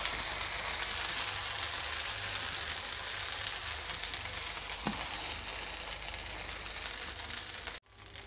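A dosa made from cooked rice batter sizzling on a pan over a medium gas flame, a steady loud hiss of frying that runs unbroken and then cuts off abruptly near the end.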